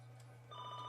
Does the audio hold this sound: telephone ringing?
yes